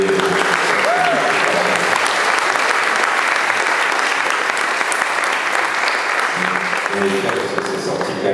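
Loud, continuous audience applause at a round-table discussion fills the room, with a voice speaking briefly at the start and again as the clapping fades near the end.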